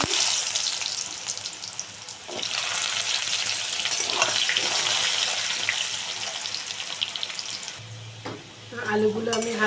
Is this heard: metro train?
no